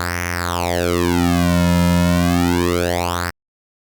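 A sustained synth tone in FL Studio, modulated by a sine wave LFO, sweeps slowly down and back up in a smooth wave-like wobble, loud and continuous, then cuts off abruptly.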